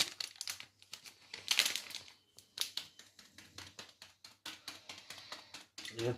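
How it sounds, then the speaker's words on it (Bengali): A food packet being opened during biryani layering, with close crinkling and tapping plastic packaging in irregular bursts, fairly loud and with no voice. "প্যাকেট আপনাদের সামনে খুলছি।"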